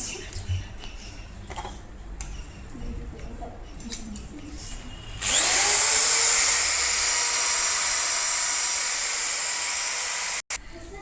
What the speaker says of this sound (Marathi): यासाठी आपल्याला ड्रिल मशीन लागेल